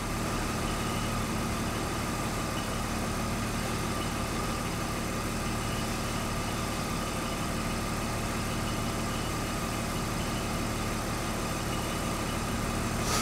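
A car engine running on LPG with a Tartarini EVO 08 gas system idles steadily, a constant close hum and rumble with no change in speed and no talking.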